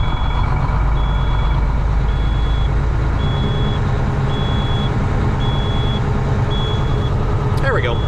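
Kenworth K100 diesel truck engine idling fast, a loud, close rumbling drone with a steady, regularly repeating reversing beep over it, plus a brief rattle near the end.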